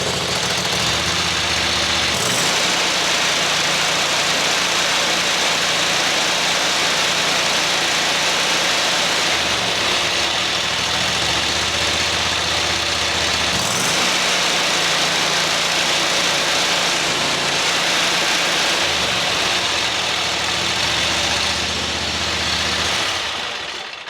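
A car engine catches and settles into a steady, loud idle with a constant low drone, its tone shifting slightly a few times while a battery meter is hooked up.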